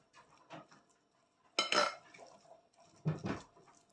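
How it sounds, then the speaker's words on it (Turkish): A spoon mixing onion dolma filling with spices and olive oil in a bowl, giving a few sharp clinks and scrapes in short bursts against a quiet background. "ve zeytinyağımızı döküp iyice harmanlayacağız. Evet kaşığımızdan karıştırıyoruz."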